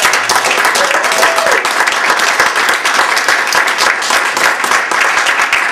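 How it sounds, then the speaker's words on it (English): Warm applause from an audience at a Transgender Week of Awareness history panel, dense steady clapping filling the room throughout, with a brief rising tone and faint murmurs underneath. "I want to give a warm round of applause and thanks for Sienna, the Transgender Support Group, and their president"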